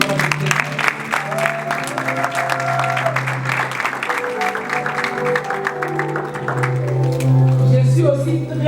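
A church congregation applauds and cheers together at a worship service, steady dense clapping throughout with voices and a sustained tone beneath, swelling louder near the end.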